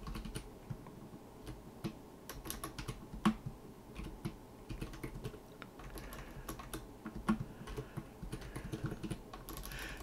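Keys on a computer keyboard clatter quietly in a steady, uneven rhythm of close taps, with the occasional sharper keystroke and no voices.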